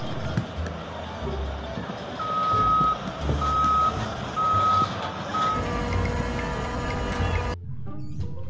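A toy sand truck gives a repeating electronic reversing beep, four steady tones in a regular rhythm over a busy play-mat bed of motor whirr and clatter; talk is faintly present.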